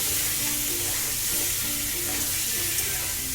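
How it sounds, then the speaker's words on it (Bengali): Eggs frying in hot oil for a Bengali egg curry give a steady, dense sizzle that stays close and loud for the whole stretch, with no voices over it. "ডিমগুলো আমি এবার এতে ভেজে নেব।"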